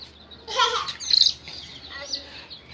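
Baby chicks, colourfully dyed, give a few short high peeps close by, brief chirps spaced across a couple of seconds in a quiet room.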